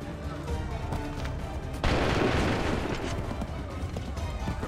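Musket volley in the video game Assassin's Creed 3 at Lexington: a loud broadband burst of massed musket fire erupts about two seconds in and rumbles on over steady battle ambience, with shouted commands in the background.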